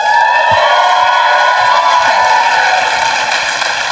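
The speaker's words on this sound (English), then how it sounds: "If you could cheer if you listen to the podcast." A live podcast audience in Seattle cheers and whoops, a continuous loud crowd roar with scattered claps, sustained for several seconds.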